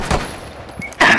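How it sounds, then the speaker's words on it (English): Shotgun fire in the Rainbow Six video game: a couple of short, sharp blasts, with a loud burst at the end, cutting through quiet game ambience. "I'm rushing in with shotgun"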